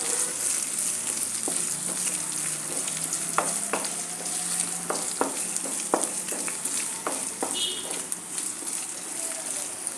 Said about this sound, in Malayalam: പെരുംജീരകം, വെളുത്തുള്ളി, ഒരു കഷ്ണം ഇഞ്ചി ഇതിട്ടതിന് ശേഷം 1-2 മിനിറ്റ് ഒന്ന് വഴറ്റിയെടുക്കുക.